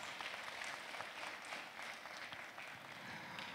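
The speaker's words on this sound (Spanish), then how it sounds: "Fuertes aplausos por los alumnos" Students applaud at a university anniversary ceremony in Puno, a dense, sustained wash of many hands clapping in a hall, steady and fairly full for the whole stretch.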